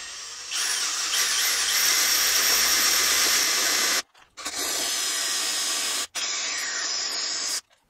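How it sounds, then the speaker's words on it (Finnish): A power drill runs at high speed cutting a 3/4-inch BSP thread into a Volvo 740 engine block, a loud whining, hissing drone in long sustained runs broken by brief stops. "Onpa aika hankala, vähän vatkaa tää porakone."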